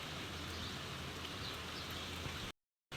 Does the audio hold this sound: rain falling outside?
yes